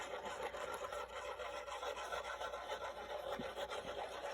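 A paper piece being burnished onto a large mini album page, giving a steady, close rubbing and scraping sound that continues evenly and softly without pauses.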